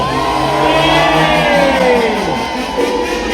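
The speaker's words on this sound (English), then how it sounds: "I want you to cheer" A festival crowd at Boomtown Festival cheers and whoops loudly, a dense roar of many voices with rising and falling shouts close by.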